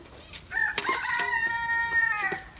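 A rooster crows once, a loud, drawn-out call lasting about two seconds, close by against a quiet background.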